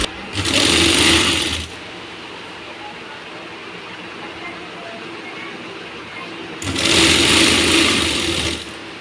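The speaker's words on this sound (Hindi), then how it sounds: "इसको एडजस्ट करते हुए हमको इसको सिलना होगा" A sewing machine stitches fabric for a Rajputi suit in two loud, close bursts of rapid whirring, each about one to two seconds long. Between them there is a quieter stretch of room noise.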